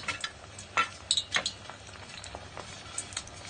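Flour-coated chicken pieces frying in hot oil for homemade fried chicken, a steady low sizzle with scattered crackles and pops and a few light clinks of a utensil, close by and without talking.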